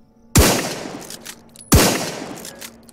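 Two sharp, loud sniper rifle shots in the video game Night of the Dead, about 1.4 seconds apart, each with a short booming tail and no voices.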